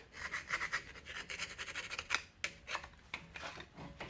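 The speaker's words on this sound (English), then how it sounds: "If there's any scale on this piston, I'm going to scrape that off." Close, steady scraping of scale off a front brake caliper piston on a 2006-2011 Honda Civic Si, a dry rasping rub with repeated short strokes and a few sharper scratches, no talking.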